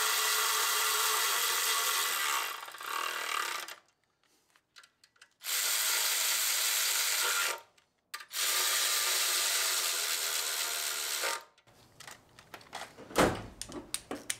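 A power tool drives charge air cooler bolts on a 2024 Chevrolet Colorado ZR2 with a 3.0 Duramax, in three long whirring runs separated by brief pauses, followed by quieter clicks and clatter close by.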